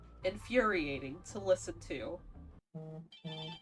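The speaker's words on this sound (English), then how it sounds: "That was my phone." A phone rings with two short, clear electronic ring bursts right after a person stops talking, the tones sounding close and moderately loud.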